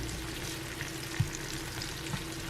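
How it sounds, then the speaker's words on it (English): Onions sizzle and crackle steadily in a hot pan, a soft, even frying hiss with a couple of small pops. "I'm just frying up some onions"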